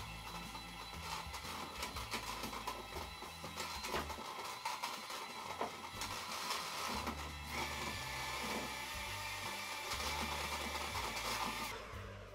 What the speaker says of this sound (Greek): Τελείωσε το μίξερ, δεν θα το χρειαστούμε άλλο.